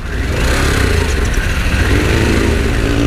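Harley-Davidson Pan America adventure motorcycle engine revving in neutral, a steady loud mid-pitched engine drone held close throughout with slight swells, no talk over it.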